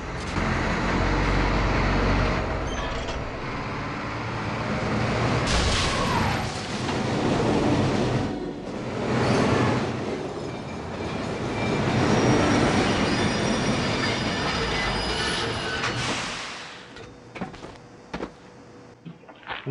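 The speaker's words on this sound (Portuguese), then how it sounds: "dá uma corridinha e subindo no trem" A train rolls along in the video game 007 Blood Stone, a loud, continuous rumble of wheels on rails with screeching metal squeals and surging swells, fading toward the end.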